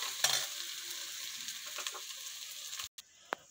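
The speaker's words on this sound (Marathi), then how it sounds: "छान छोल्याची भाजी घालून मिक्स करून घेऊ" Green chickpea vegetable with softened tomato being stirred in a frying pan: steady sizzling with repeated scraping stir strokes, close and fairly loud, briefly cutting out near the end.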